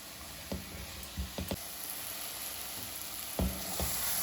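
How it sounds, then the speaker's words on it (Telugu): Coconut masala for a Rayalaseema kandi ginjala curry fries in a pan, a steady broadband sizzle with a few brief stirring knocks near the start and end; no voices. "ఇదంతా కూడా ఒక 5 నిమిషాలు బాగా వేగనిద్దాం."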